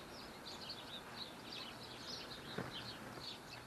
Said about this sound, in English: A couple of birds.